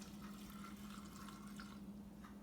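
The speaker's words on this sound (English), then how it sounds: "here is, I'm putting some water in" Water runs steadily into a container while making date paste, a quiet continuous pour over a low steady hum, with no voices.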